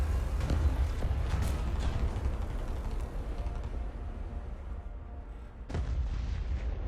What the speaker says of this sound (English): So I thought I can get another shot on the tanks over there in the spawn.